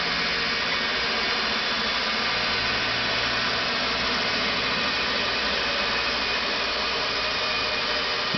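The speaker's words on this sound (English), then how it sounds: "I can hear the motor spinning down" An electric motor with newly seated brushes spins down to a slower speed, giving a steady, dense whirring hum that fills the clip alone with no talking.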